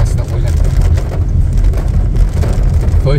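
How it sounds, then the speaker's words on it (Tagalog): Heavy rain pounding on a Honda Civic during a drive through Quezon province, a dense steady roar with deep road and engine rumble underneath, continuous and loud throughout with no voices. "Sobrang lakas ng ulan."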